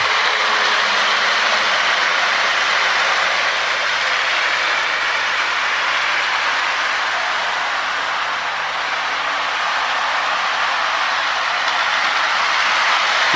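A Lionel Alco model train with magnetraction runs steadily around its track, a loud continuous whirring motor and rolling rumble with no talking.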